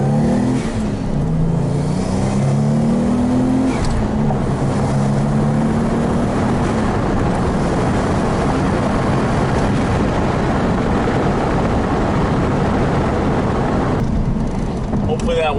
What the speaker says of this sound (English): You can hear that spool as well as that blow-off valve that Jordan gave me.